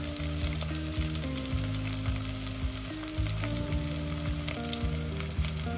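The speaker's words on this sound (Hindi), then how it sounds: "बस थोड़ी देर पकाएंगे, थोड़ा सा बस प्याज थोड़ा सा पक जाए" Onions fry in a pot for Hyderabadi dum biryani with a continuous, close sizzle and crackling, scattered with small pops, and no voices.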